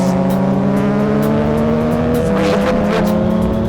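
A DeltaWing turbo race car with about 300 horsepower runs on a track, its loud engine note droning and rising steadily throughout, with no talk.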